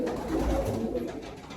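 Low, soft cooing of a pigeon kept in a loft, a steady murmuring drone close by with no talk over it.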